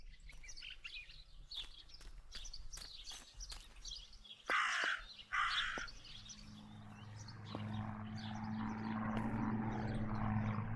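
A raven in the horror game Martha Is Dead gives harsh caws among other bird chirps, two louder calls standing out midway, set against a quiet outdoor ambience that swells into a low drone.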